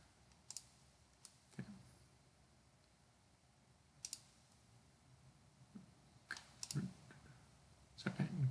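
Sparse, faint computer mouse clicks, a handful of sharp single and double taps scattered across a quiet background, with no speech.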